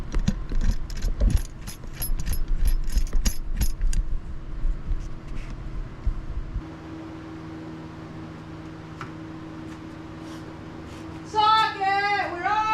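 A hand ratchet tightens a lock nut while fitting a rear bench seat on a Yamaha RMAX 1000-4 side-by-side, giving a close burst of rapid clicking over the first few seconds before the work goes quiet.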